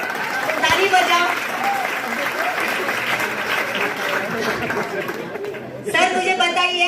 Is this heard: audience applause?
yes